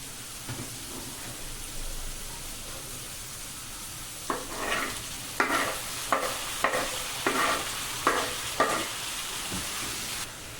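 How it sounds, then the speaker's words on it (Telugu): Onions sizzle and fry in a pan, a steady low hiss with a run of sharper stirring scrapes toward the end, close up with no talking. "ఇలా రంగు మారే వరకు కూడా మీరు ఉల్లిపాయలను వేయించుకోవాలి."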